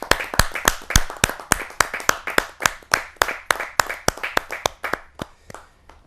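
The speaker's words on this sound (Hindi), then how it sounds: "जोरदार तालियों के साथ पंडित सुरेश नीरव।" Loud, spirited clapping from an audience at a Hindi poetry gathering, welcoming a poet: sharp, crisp hand claps in a steady uneven patter that thins out toward the end, with no voice over it.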